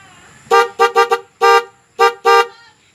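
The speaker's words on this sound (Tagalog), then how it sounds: "Dual horn." Bosch EC6 dual horn fitted to a Honda Click 125Fi scooter blares in seven loud, close toots of uneven length in a quick irregular rhythm, with nothing else heard.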